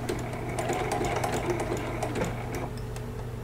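A sewing machine stitches a teddy bear appliqué for a baby quilt in a steady, close, fast mechanical run that eases off slightly near the end, with no talking.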